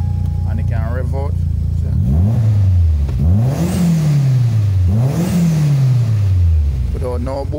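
A Toyota Corolla petrol engine with a bypassed air flow meter starts and revs loudly in three rising sweeps that each fall back to idle, close by, with someone talking before and after.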